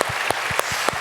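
Church congregation clapping together during a Korean talk-concert service, a steady wash of applause with a few sharper claps standing out, fairly loud and unaccompanied by speech.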